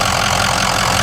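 A 6.0L Powerstroke turbo diesel V8 in a 2004 Ford F350 Super Duty dually runs at a steady, smooth idle, with a continuous low rumble and clatter close by.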